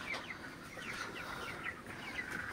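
A broiler chicken clucks in a run of short, repeated calls, steady and moderately close over a constant background hum, with no talking.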